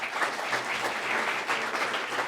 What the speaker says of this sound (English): So big applause for the winners.